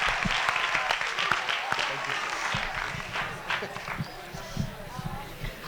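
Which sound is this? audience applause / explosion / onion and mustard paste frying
audience applause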